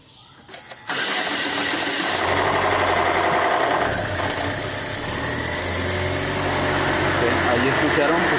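A Chevrolet Aveo/Cruze/Sonic/Trax engine cranks and catches after about a second, then settles into a loud, steady idle heard up close in a repair setting, with a person speaking over it.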